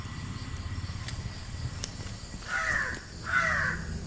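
A crow caws twice in quick succession at mid-distance, the harsh calls standing clearly above a low, steady background hum with no talking.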